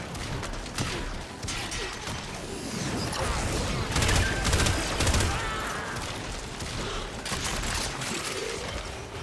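Enemy gunfire in the video game Warframe during an excavator defense, with dense overlapping rapid bursts and crackling impacts, loud and continuous with a swell in the middle.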